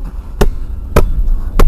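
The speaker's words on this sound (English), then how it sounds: "Oh, it's a basketball." A basketball bounces three times in a sound-effects skit, each thump a sharp, distinct impact about half a second apart, over a low steady hum.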